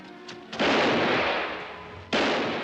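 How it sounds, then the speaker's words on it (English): Gunshots in the 1961 western film One-Eyed Jacks during a final showdown in town: two loud, sharp blasts, each trailing off into a long, wide, roaring decay. "Rio shoots Dad dead."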